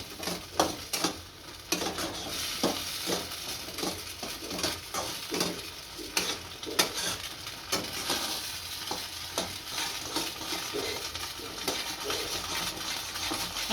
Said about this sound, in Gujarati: હલાવતા રહીએ એટલે તળીએ બેસી ન થાય